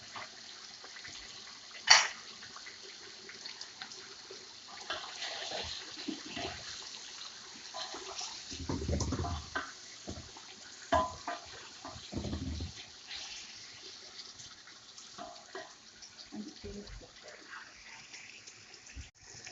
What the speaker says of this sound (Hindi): बस मैं इसमें पानी डाल दी